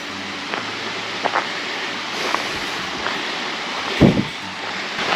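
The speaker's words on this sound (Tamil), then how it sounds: "ஒரு ஆறு மாதிரி தண்ணி ஓடுது." A small stream rushes in a steady, broad wash through dense forest on a mountain at Hallstatt, with light wind noise and a couple of dull bumps near the microphone.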